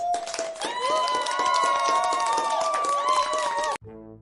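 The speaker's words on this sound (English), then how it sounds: "Give yourself a round of applause." A group claps and cheers loudly for several seconds as a round of applause, with a bright musical tone ringing over the clapping before it cuts off abruptly into a brief tune.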